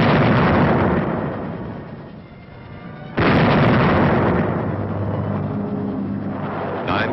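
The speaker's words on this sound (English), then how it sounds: "camouflaged 105 howitzers on gun carriages opened up with a bombardment of warning" Camouflaged 105 howitzers on gun carriages fire a bombardment in 1944 combat footage. Heavy booms rumble together and then a sharp new blast hits near the midpoint, all in loud, dense noise on an old recording.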